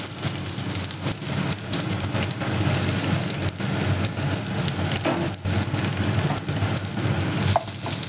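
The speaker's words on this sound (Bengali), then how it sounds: "কিছুক্ষণ এই পেঁয়াজটা কাঁচা লঙ্কাটা আমি ভেজে নেব" Chopped onion and green chillies fry in oil in a pan, giving a steady, loud sizzle that runs without a break.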